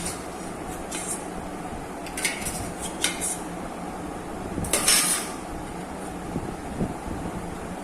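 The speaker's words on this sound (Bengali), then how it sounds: "এবার এটাকে আমি ঘুরিয়ে নিচ্ছি, দিলেই মিল্ক আমরস রেডি হয়ে যায়।" Aamras mango drink with sugar and milk being stirred in a container, giving a run of soft clinks and scraping taps, a few sharper strikes standing out against a steady low background hiss.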